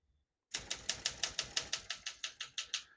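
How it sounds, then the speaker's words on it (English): Rapid, even keystrokes on a 1965 Olympia SM9 portable manual typewriter, about fifteen crisp clacks in steady rhythm over two and a half seconds, close and clear with no talking. "We're going to keep that on single for now and finish typing."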